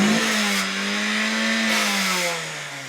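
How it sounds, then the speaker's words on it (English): A car engine revs hard and steadily with a rising and falling drone throughout, loud and close, during a driving lesson where the driver is pressing the gas too heavily. "When you hear the engine going, it's angry."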